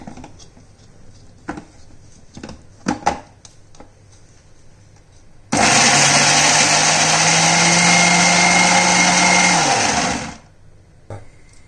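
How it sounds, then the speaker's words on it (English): A few soft clicks and clatters, then a loud blender whirs for about five seconds, its motor pitch dropping slightly as it chops a thick cooled masala spice paste before stopping. "I'll put it in a blender"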